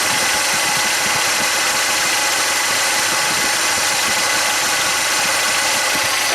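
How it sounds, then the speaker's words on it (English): A second alternator added to a 1989–98 Geo Tracker engine runs with a steady, dense mechanical hum and whine over the engine's idle, continuous and close with no talking. "Alternator's making noise."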